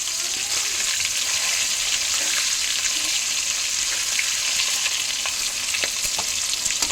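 River fish frying in hot oil in a pan, a loud, dense and continuous crackling sizzle that stays close and even throughout, with small pops and spits scattered across it.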